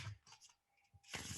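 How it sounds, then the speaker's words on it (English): A deck of tarot cards is shuffled during a reading, with soft riffling and flicking bursts, quiet and close, ending in a brighter, denser flutter of cards; no one speaks over it. "while I'm shuffling for you?"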